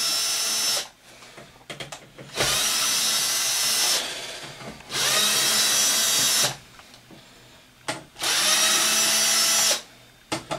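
A power drill backs number 10 Torx screws out of an Xbox 360 case in three close, loud whirring runs of about two seconds each, with short pauses and small clicks between them.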